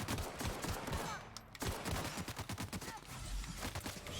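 Rapid gunfire rattles through a video game in dense bursts of fusillade and machine-gun shots, loud and close, with a short pause midway before the shooting resumes.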